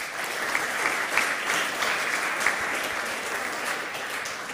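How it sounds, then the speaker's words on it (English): An audience applauds a speaker at a 2007 conference talk about overtaking proprietary software, giving a steady, dense clapping that holds at an even level from start to finish without any speech. "So have a big applause for Olivier and enjoy your talk"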